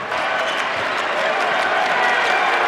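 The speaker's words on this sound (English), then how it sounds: "Crowd getting involved." A basketball game crowd cheering and clapping in a continuous loud wash of noise that holds steady throughout.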